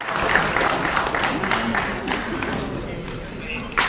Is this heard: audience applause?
yes